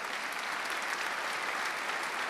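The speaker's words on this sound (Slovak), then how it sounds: "Dámy a páni, veľký potlesk." Steady audience applause at a live folk music performance fills the room, loud and even throughout with no talking over it.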